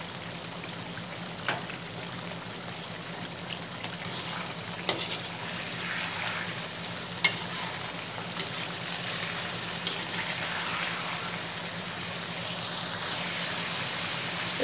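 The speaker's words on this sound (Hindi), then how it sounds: "इसको हमने तब तक कुक करना है जब तक इसका कलर डार्क ब्राउन ना हो जाए ना, तब तक हमने इसको हाई फ्लेम पे कुक करना है" Chicken karahi frying in a pan over a high flame, a steady soft sizzle with occasional crackles and the scrape of stirring, continuous and fairly quiet with no talking.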